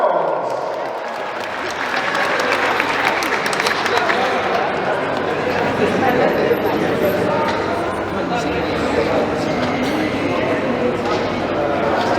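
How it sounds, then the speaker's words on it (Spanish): Guests at a 50th birthday celebration break into sustained applause, a thick continuous clapping with crowd chatter and voices mixed in throughout. "¡Que vengan los aplausos!"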